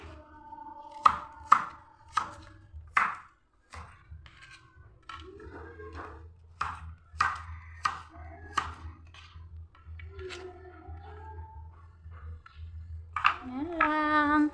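A knife slices through squash (kalabasa) on a cutting board at home, giving a string of sharp, close chops in an uneven rhythm, with a few softer knocks and brief scraping in between.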